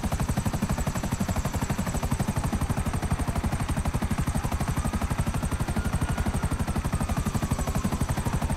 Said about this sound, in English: This is a cool plane.